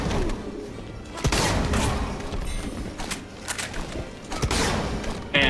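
Lobo fires his shotgun loaded with nuclear shells in the fighting game Injustice, producing repeated sharp blasts and thuds with bursts scattered through a busy battle mix.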